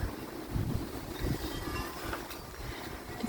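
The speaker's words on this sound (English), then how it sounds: "the wind's picking up" Wind gusts steadily across a front porch on a windy day, a broad roaring rush that swells and buffets the microphone without letup.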